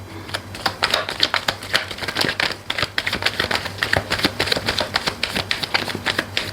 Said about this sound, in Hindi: यो कितने सारे कार्ड, ये लास्ट शफल है।